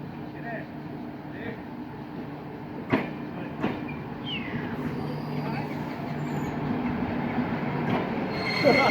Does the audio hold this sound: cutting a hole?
no